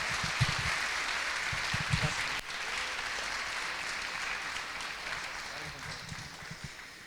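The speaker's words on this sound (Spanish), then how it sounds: "así que le damos un aplauso fuerte" Church congregation applauds loudly and steadily for a guest about to preach, a dense continuous clapping wash with voices and low rumbles mixed in throughout.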